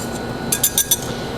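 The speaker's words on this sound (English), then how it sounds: "just mix all the dry ingredients till they're very well blended" Dry pancake ingredients being mixed in a bowl, heard as four quick, bright clinks of a utensil against the bowl over a steady low background hum.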